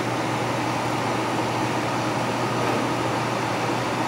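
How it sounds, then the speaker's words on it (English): A GFK-160 fireplace blower fan running on its high setting, giving a steady, even whirring hum with no change in pitch. "Okay, our blower's now running."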